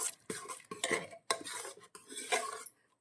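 Split mung dal being whisked briskly in a bowl, a quick series of scraping, clinking strokes against the sides in uneven bursts, close and fairly quiet, with no voice over it.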